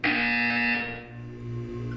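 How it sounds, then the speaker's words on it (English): A loud, harsh electronic buzzer from the video game Portal 2 blares steadily for about a second, then fades and drops to a lower drone. "You will hear a buzzer."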